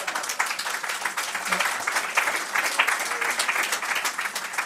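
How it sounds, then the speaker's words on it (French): Audience applause at a French debate forum on seniors at work, a dense, steady clapping from a crowd lasting several seconds. "vous l'applaudissez"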